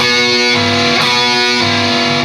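A loud, heavily distorted electric guitar plays a sustained, buzzing riff with a brief note change midway, close and continuous for a couple of seconds.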